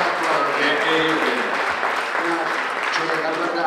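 An audience at a public debate between mayors claps steadily, a dense, close applause that holds at full strength for the whole stretch with only slight swells and dips.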